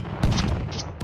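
In the battle game TABS, a pirate cannon fires with a sharp booming blast followed by a second, quieter shot about a second later, near and unaccompanied by speech.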